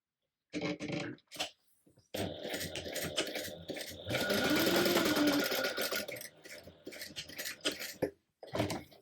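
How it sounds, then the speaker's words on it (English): A home sewing machine stitching a fabric panel for a mini tote bag, running in several close, loud whirring bursts separated by brief stops and handling sounds. "on the right side, stitch 1/8 of an inch away down each long side"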